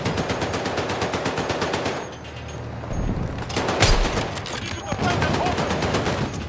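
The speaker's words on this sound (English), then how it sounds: "Hostile machine gun!" Sustained automatic machine gun fire in the video game Battlefield 6, rapid evenly spaced shots rattling loudly across the whole span, with a brief lull in the middle and heavy blasts mixed in, amid battlefield chaos.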